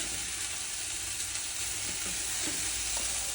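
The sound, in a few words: stirring leftover food in a small pot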